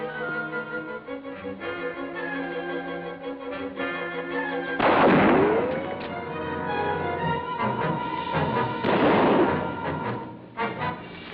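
Gunfire in a 1953 pirate serial film, a sharp loud shot followed by a long rumbling echo, with more bursts of firing later over an old soundtrack with music.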